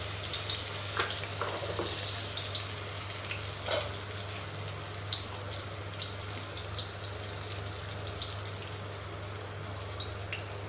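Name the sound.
raw banana frying in a wide pan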